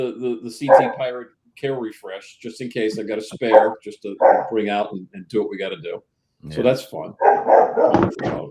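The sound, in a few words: dog barking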